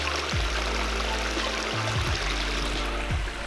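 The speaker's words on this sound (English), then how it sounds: "That is a disappearing waterfall." Water runs steadily through a pondless (disappearing) waterfall and stream, a continuous close rushing and splashing with a low rumble beneath, no voices.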